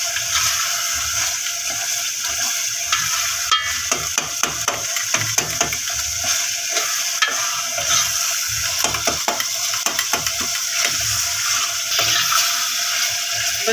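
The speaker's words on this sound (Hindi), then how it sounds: "तो इसे चम्मच के साथ ऐसे करेंगे ताकि ये अच्छी तरह से गल जाए।" Spoon mashing softened tomatoes in a pan of cooking white chana with eggs, giving a steady wet sizzle and frying crackle with irregular soft scraping and stirring clicks throughout, fairly close and continuous, no voices.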